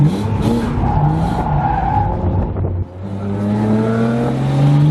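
Drift car tires skid and squeal loudly on a track at a Halloween drift night at Adams, with the engine revving underneath as the car slides through a clutch-kicked drift.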